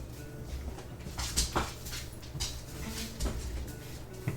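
A pet dog whimpers indoors in a series of short, faint, high whines and yips scattered across a few seconds over a quiet room background.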